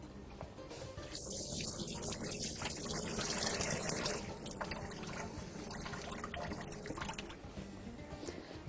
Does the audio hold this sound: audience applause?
no